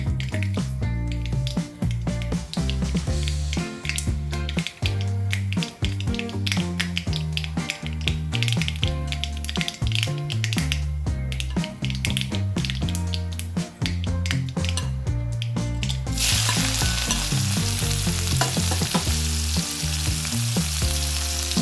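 Oil crackles and sizzles under music, then a sudden loud rush of frying as shallots go into the hot oil after mustard seeds have popped, near the end.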